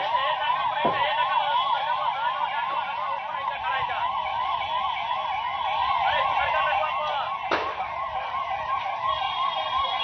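Fire engine sirens wail continuously at the scene of a chemical factory blast and fire in an industrial area, a loud rising-and-falling tone with a sharp clack partway through and no talking.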